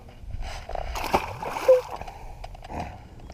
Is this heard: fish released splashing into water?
yes